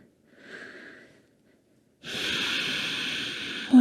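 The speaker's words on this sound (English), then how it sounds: "Close your eyes, soften the shoulders. Soften all your face muscles. Just begin to breathe." Deep, slow breathing during a yoga relaxation: a soft, brief inhale, a pause, then a longer, louder, airy breath that swells near the end, close to the microphone with no talking.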